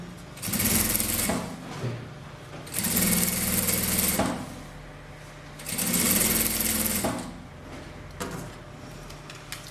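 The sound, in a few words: sewing machine stitching bias binding onto a rug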